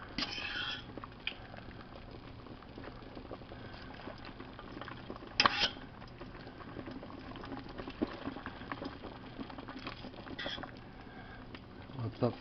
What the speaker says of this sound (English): I'll show you more of the boiling the cabbage step